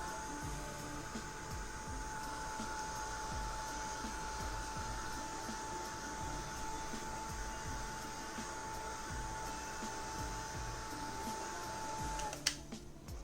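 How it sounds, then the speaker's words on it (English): A heat gun blows steadily at close range while drying a mixed-media craft project, a constant loud whooshing drone with a fixed whine that runs unbroken, then cuts off abruptly near the end with a click. "Like I always say, I cannot do without my heat gun."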